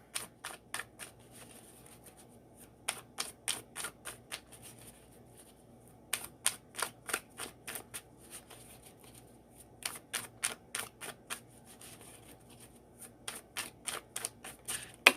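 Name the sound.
shuffling oracle cards from decks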